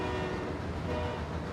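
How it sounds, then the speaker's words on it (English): A train rumbles past in the Forza Horizon racing game, a steady broadband roar with a faint tonal horn-like line running through it, moderately quiet and continuous over a brief moment. "And there goes the train."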